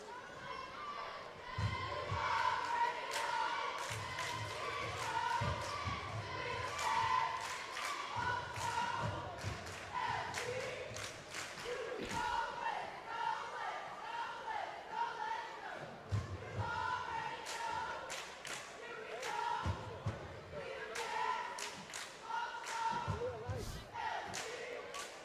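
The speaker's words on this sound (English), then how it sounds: "I'm sure y'all can hear our cheerleaders loud down below us here." Cheerleaders cheer loudly from courtside at a high school basketball game between Lanier County and Echols, a busy crowd roar with chants and thuds running steadily under nearby voices throughout.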